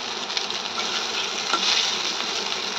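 Soaked sabudana mixed with salt makes a soft, steady gritty rustle of grains being tossed and stirred, close and continuous without speech.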